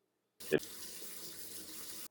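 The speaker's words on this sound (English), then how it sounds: "It's important to rinse all new filter media with dechlorinated water." Tap water runs steadily into a sink while new aquarium filter media, including fresh Purigen, is rinsed with dechlorinated water; a brief louder splash comes near the start, then an even, moderately quiet flow continues with no talk.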